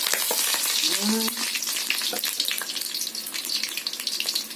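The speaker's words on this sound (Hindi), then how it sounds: "अंडा कढ़ी बनाने के लिए अंडा को भी फ्राई कर रहे हैं" Eggs frying for egg curry sizzle loudly and steadily in hot oil close by, with stirring scrapes and a brief ringing clink over the continuous hiss.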